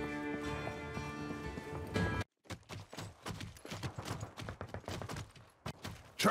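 Rapid clip-clopping footsteps of a hooved creature in the video game Serious Sam 4, a fast, loud rhythmic pounding after a musical passage and a brief silence, with no talk.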